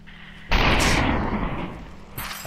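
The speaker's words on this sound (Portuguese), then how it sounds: "Ele vai atirar em mim e a bala vem aqui, ó" Enemy gunfire in a VR game on Oculus Quest 2: one loud, booming shot with a long rumbling tail that fades, then a second sharper burst near the end, no talk.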